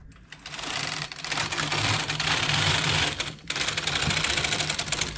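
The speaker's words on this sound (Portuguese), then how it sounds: "Agora aperto o tuque, os dois, e vamos tecer." A domestic knitting machine knits a separate collar, its carriage making a loud, rapid mechanical clatter in continuous passes, with a brief pause near the middle before the rattling resumes.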